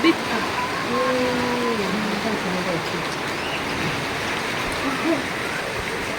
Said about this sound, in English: it looks beautiful and peaceful when it's raining